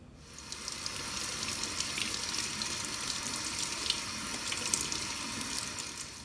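Canned black beans rinsed under a running kitchen tap, giving a steady, close hiss of water splashing in the sink that holds for about six seconds with no talking.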